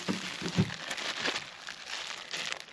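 A plastic bag crinkles close by during parts work on a 1996 Jeep ZJ, a few soft crackling bursts and rustles with no talking.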